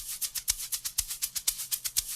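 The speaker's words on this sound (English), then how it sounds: "And the two shakers sound like this." Two amapiano-style shaker loops layered together in a busy, steady rhythm, a dense stream of bright rattling hits with stronger accents every few strokes.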